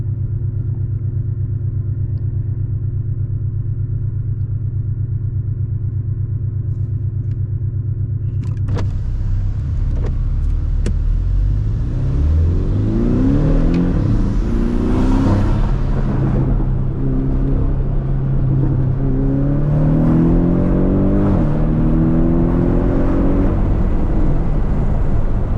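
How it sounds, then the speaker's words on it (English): A 2022 Porsche 718 Cayman with a variable exhaust idles steadily, then revs up loudly with rising, falling sweeps of engine tone through several climbs, close and powerful, with no talking. "really do get to hear that variable exhaust in the Cayman"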